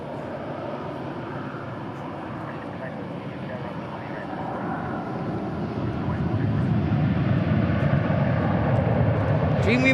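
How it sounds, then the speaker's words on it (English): A Qantas Boeing 787 departing DFW airport gives a steady, broad jet roar that swells gradually over the span, with no speech heard. "Qantas 22 is also headed our way. So we'll have a 787 departing here shortly."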